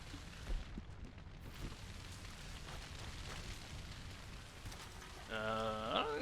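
Rain falls steadily in Red Dead Redemption 2 near a fire, a constant moderate hiss, then a tonal chime-like game sound comes in over it close to the end.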